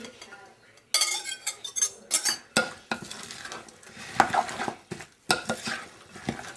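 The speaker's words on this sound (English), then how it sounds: "Then we're going to add my previously chopped veggies." Chopped vegetables go into a tuna croquette mixture in a bowl, giving irregular scraping, clinking and stirring noises with sharp utensil knocks, near and fairly loud, with short pauses between bursts.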